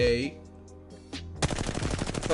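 An R-301 rifle in Apex Legends, stripped of attachments and firing in regular mode, lets off a rapid close burst of automatic shots after a brief quieter lead-in.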